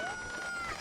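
A chicken call from the Ocarina of Time Randomizer video game, a brief synthesized cluck-like cry with rising tonal pitch, heard once and alone at steady game volume.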